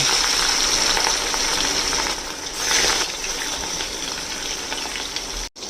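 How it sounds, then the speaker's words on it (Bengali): Pieces of Katla fish fry in mustard oil, a loud, continuous dense sizzle heard close up, with one brief swell in the middle before cutting out abruptly near the end. "মাছ ভাজা হচ্ছে"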